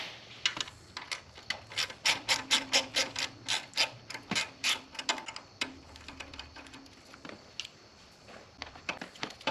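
A ratchet clicks rapidly while backing out a T25 bolt that holds a reservoir on a BMW M6 engine, with bursts of close, dry ratcheting and short pauses between strokes.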